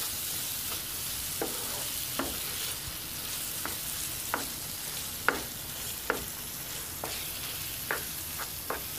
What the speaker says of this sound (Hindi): ये डालकर मैं इसको अच्छी तरह भून लेती हूँ मसालों को।